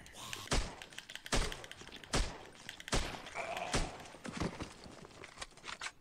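Regular loud gunshots in the survival horror game Heaven Dust 2, about one every second or so, with faint background noise between them.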